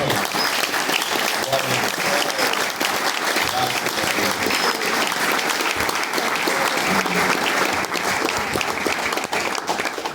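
A church congregation claps together in loud, sustained applause, a dense crackle of many hands filling the room with a few voices faintly underneath.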